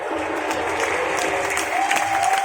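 Clapping from a gathered audience during a religious katha debate, a loud continuous wash of hands with faint background voices and a thin sustained tone running underneath.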